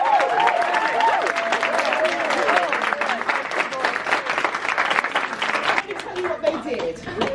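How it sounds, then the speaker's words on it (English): A crowd in a student showcase applauds music and technology composition students, steady clapping and cheers filling the whole stretch, with voices and whoops rising through it. "just take a big round of applause"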